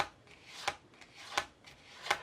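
Playing cards shuffled by hand for a close-up card trick, giving three sharp riffling bursts about every three-quarters of a second, close and fairly quiet, with no talking.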